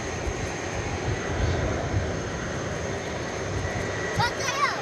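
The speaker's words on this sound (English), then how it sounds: "Yes, an Airbus A321 Neo." An American Airlines Airbus A321neo at Dallas Fort Worth airport at night, a steady distant jet rumble and hiss with a high whine, with a brief chirp near the end.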